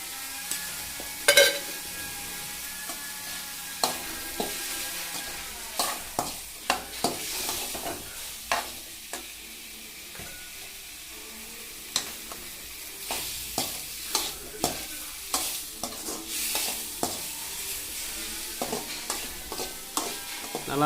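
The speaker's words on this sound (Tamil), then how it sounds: "நல்லா தக்காளி வந்து பார்த்திங்கன்னா சாஷ் ஆகிற மாதிரி நல்லா போட்டு குத்தணும், க்ரஷ் பண்ணணும்" Tomatoes with salt and a little chili powder fry in a pan for homemade tomato bajji while a spatula repeatedly stirs and crushes them, giving sharp scraping knocks in an irregular rhythm over a soft, continuous sizzle, with no voices.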